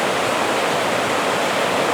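The Dungeness River runs high after heavy rains, a loud, continuous broadband rush of fast water close by with no other sounds.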